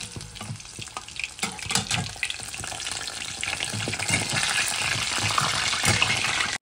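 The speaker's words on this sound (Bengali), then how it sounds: "আর এখানে হচ্ছে নাগেটস ভাজা হয়েছে, আর মোমো ভাজা হচ্ছে।" Momos and nuggets fry in hot oil in a home kitchen, a close crackling sizzle that starts uneven with a few clinks and grows into a steady, fuller bubbling hiss.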